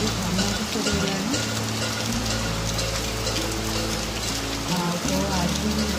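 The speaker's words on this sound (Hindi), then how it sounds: "बाहर बहुत जोर वर्षा भी होती" Heavy rain falls steadily outside a home kitchen, a dense continuous hiss of drops on surfaces, with a low steady hum and faint voices underneath.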